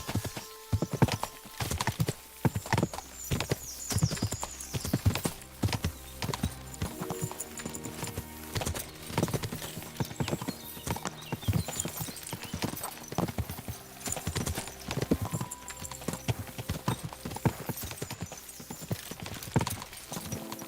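Horse hooves clip-clop in a steady, quick rhythm during riding in Kingdom Come Deliverance 2, loud and continuous with an occasional whinny.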